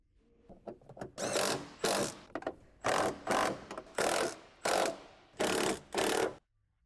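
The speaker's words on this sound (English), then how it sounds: "Then use a 13mm socket on the impact to tighten." An impact wrench fitted with a 13mm socket tightens bolts on a Ford Explorer motor and transmission mount, sounding as a string of about nine loud, close bursts of rapid hammering separated by short pauses.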